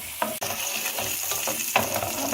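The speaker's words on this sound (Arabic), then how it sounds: "بحط معلقتين زيت، وبنزل بالليه بتاعتي عشان تنزل كل الدهون اللي فيها" Sheep tail fat frying in a little oil in a pan, a loud continuous close sizzle broken by a few scraping stirs, no talk.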